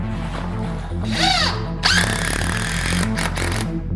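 Power drill driving screws into a homemade wooden coffee table, a whining motor revving up and down in short bursts over a steady background hum, close by.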